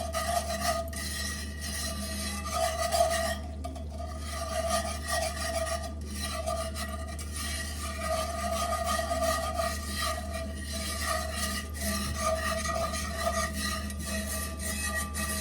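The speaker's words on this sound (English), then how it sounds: "And then you're going to whisk it until all of that is mixed up." A whisk beats cornbread batter in a bowl, a continuous rapid scraping and rasping with a fast regular rhythm, close and moderately loud.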